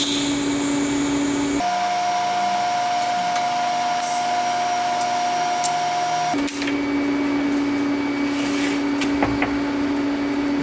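Steady electrical hum and buzz of a TIG welding setup during repair work on a Subaru, continuous with tonal whine and a shift in pitch partway through, loud and without talk.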